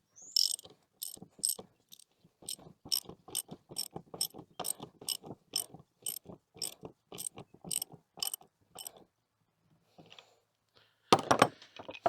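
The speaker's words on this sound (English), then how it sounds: "we're just going to go ahead and tighten down each individual arm onto the front guard here" Bolts being tightened on the arms of a steel Texas Star shooting target, a rapid run of ratcheting clicks in steady bursts close by, pausing briefly before a final louder rattle at the end.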